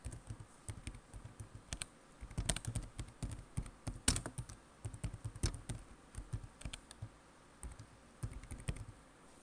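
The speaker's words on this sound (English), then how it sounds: "here I can type the information I want" Soft, rapid keystrokes come from a computer keyboard while footnote text is entered in Microsoft Word 2013, with quick irregular bursts and brief pauses, faint and close, and no one talking.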